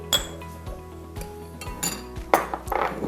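A utensil clinks against a glass or ceramic bowl while olive oil is stirred into milk for a sauce, bright repeated taps and chimes at a steady stirring rhythm, close up with no voices.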